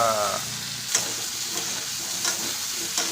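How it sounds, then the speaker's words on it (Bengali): Plantain pieces sizzle and crackle steadily in hot oil, with occasional louder scraping taps from a utensil stirring the pan. "এটা ভালো করে ভেজে নিতে হবে।"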